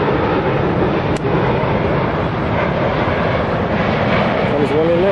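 A fixed-wing airliner on approach to land at an airport, heard as a loud, steady engine roar filling the whole stretch with no break, close and continuous.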